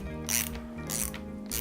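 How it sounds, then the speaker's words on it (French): A ratchet with a 28 mm socket tightening a Fast Suspension up kit with foams, three bursts of quick close clicking separated by short pauses. "avec une douille de 28 mm, vous serrez l'ensemble"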